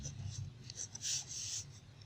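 Strokes of chalk or marker on a board during a sixth-grade maths lesson, soft scraping bursts in quick succession, heard close with low room hum beneath.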